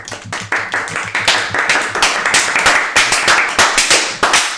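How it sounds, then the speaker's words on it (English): Rhythmic hand clapping, loud and close, repeating at a quick steady beat throughout like a looping clap track in a podcast studio. "Let's add a clap track."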